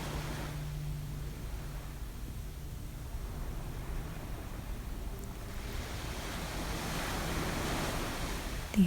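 Ocean waves wash against the seashore at sunrise, a soft, steady roar with a gentle swell building toward the end, faint wind beneath and no talking.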